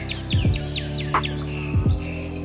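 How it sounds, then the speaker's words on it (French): Birds chirp in the park grounds at Angkor Wat, Cambodia, on a fine day: a few short, faint tweets in small clusters over a steady low hum, with no voices. "On entend les oiseaux."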